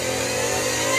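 A Shelby GT500 engine in Forza Horizon 5, a dense, steady mid-pitched rev with a constant buzzing drone, loud and close for about a second, without speech.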